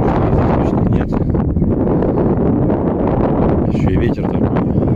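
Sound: strong wind

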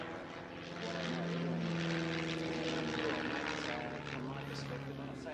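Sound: Tiger Moth biplane flying aerobatic display

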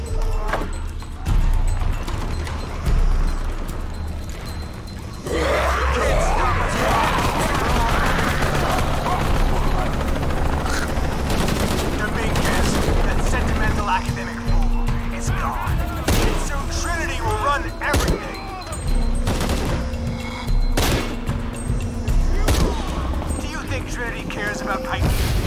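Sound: gunfire from a video game, shots missing

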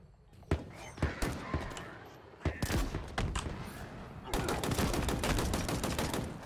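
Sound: gunfire in Halo Infinite video game

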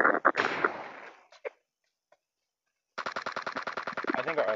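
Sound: gunfire in video game PUBG Mobile zombie mode

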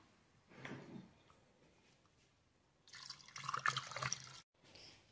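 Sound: milk being poured in for an avocado and zucchini smoothie

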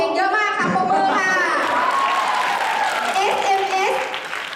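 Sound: audience applause

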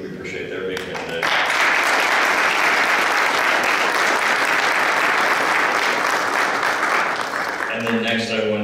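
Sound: applause

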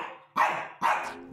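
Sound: Shih Tzu dog barking

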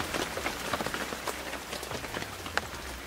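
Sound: rain falling on a lake

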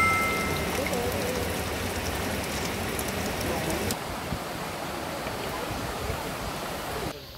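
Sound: mountain valley stream water flowing, Jirisan

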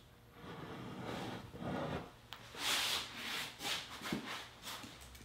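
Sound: removing a wooden base from a cross brace

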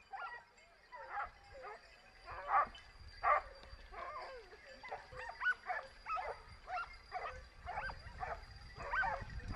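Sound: hunting dogs barking during a wild boar hunt

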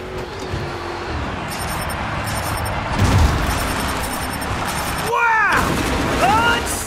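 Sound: Grave Digger monster truck in video game Monster Jam Showdown

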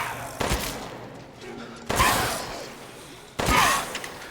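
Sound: shotgun shots from a video game

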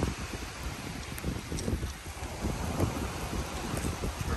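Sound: rain

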